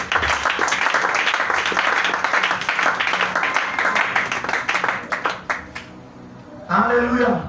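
A church congregation applauding God, with dense, sustained clapping and voices heard together, easing off near the end before a single voice cuts in.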